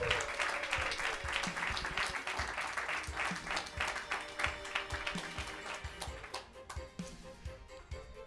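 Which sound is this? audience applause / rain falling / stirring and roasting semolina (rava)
audience applause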